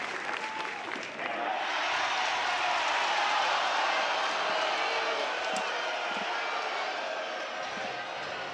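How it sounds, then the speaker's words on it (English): A capacity crowd applauds at Loves Field during a college softball game between Georgia and Oklahoma, sustained loud clapping and cheering that swells and carries on throughout. "Capacity crowd here at Loves Field, always very involved."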